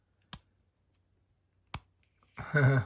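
Two crisp, separate clicks from the switch of an Aponuo solar dock lamp, close and isolated in a quiet room, followed by a brief voice at the end.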